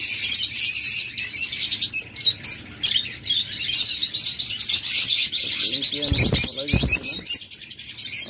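A caged breeding pair of pet birds chirps and twitters continuously at close range, with a couple of lower thumps or coos near the end.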